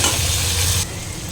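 Tomatoes with a little salt sauté in a pan for Gujarati dal dhokli, making a loud, close sizzle with stirring that drops suddenly to a quieter frying hiss partway through.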